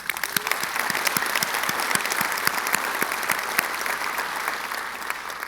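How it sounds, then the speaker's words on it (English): A large audience at an energy summit breaks into steady, dense applause that continues at an even, loud level throughout. "maybe I just ask for a round of applause for everybody involved for what we're going to do here today"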